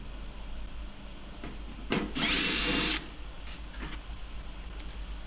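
Power driver briefly whirring to remove screws from an Asko dryer, one short burst of about a second against quiet room hum.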